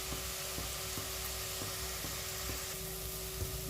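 Onions sautéing with salt in a pan give a continuous low sizzle and frying crackle, fairly quiet and even, with a faint steady hum underneath and no voices.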